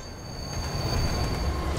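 A metro train in the LEGO Batman 2 video game rumbles steadily with a high, thin wheel squeal running over the noise throughout.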